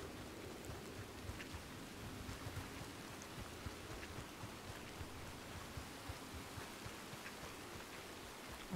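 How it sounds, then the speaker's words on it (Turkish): Steady rain pours across an open-world Western game scene in Red Dead Redemption 2, a dense continuous hiss with faint low rumbles beneath and no voices. "Çok güzel yağıyor ya."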